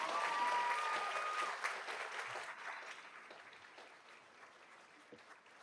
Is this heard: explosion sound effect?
no